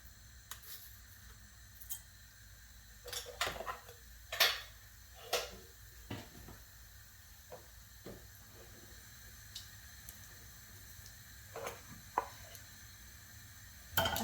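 Mustard seeds crackle in hot oil while cooking palak rice: sparse, quiet pops and sharp ticks arrive irregularly, with a few brief clustered spurts over a faint background hiss.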